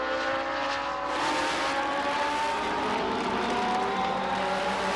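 Race cars battling for the lead at Midvale Speedway during the Fall Classic, a loud continuous engine roar with layered revving tones that swell slightly as the pack passes.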